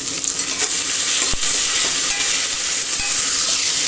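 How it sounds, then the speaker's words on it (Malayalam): Asafoetida sautéing in a pressure cooker for sambar rice gives a steady, close frying hiss throughout, with a couple of sharp utensil knocks against the pot. "അതൊന്ന് വഴറ്റിയെടുക്കാം ഒരു കഷ്ണം കായ നമ്മൾ പെട്ട് കൊടുക്കുന്നുണ്ട്"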